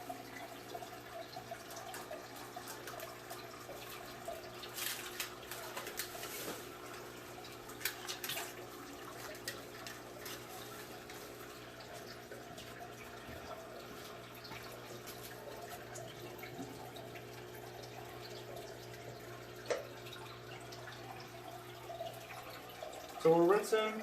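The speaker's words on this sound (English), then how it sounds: "So we're rinsing this one out because this one had a lot of that gel, the water gel." Aquarium item rinsed under a running tap while setting up a fish tank, a faint continuous stream of water with small splashes, quiet under intermittent talk.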